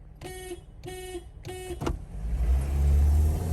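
A Toyota Corolla pulls away from a standstill, its engine note building steadily from a low rumble into a louder, sustained roar after a few short tonal chirps at the start.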